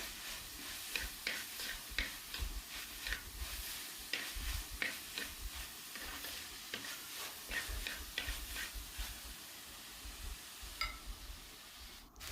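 Onions sautéing in a pan for Kerala-style beef curry, a steady soft sizzle broken by repeated stirring scrapes and clicks of a utensil, close and alone with no talk.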